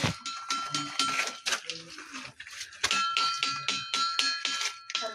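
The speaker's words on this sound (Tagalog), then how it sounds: "Kampana." A metallic ringing from a stone said to sound like a church bell inside a rock cave, struck repeatedly in an uneven rhythm, close and bright, with people talking between strikes.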